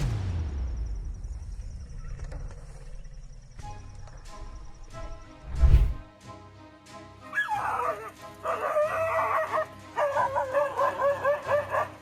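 A dog on a porch shrieks in fear as a pregnant jaguar attacks it, a burst of repeated high yelping cries following a quieter stretch with a dull thump.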